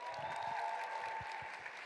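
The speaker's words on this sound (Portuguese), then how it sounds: "Palmas para ela," Audience applause at a conference on Brazilian digital influencers as a speaker is welcomed on stage, a steady wash of clapping from a crowd, moderately distant and even throughout.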